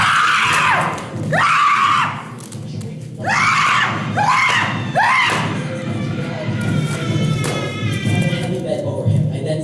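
Several loud, strained yells in quick bursts near the start of a solo stage performance, followed by thuds and a raised voice continuing over rough background noise.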